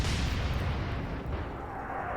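Naval gun salvo in the Atlantic Fleet video game, a dense, rumbling boom that fills the moment and rolls on continuously with a heavy low-end roar.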